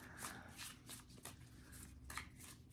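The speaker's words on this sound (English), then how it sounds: "Now I'll pull cards." Tarot cards shuffled by hand on a floor, a steady run of soft papery riffles and flutters repeating for a few seconds, close and fairly quiet with no talking.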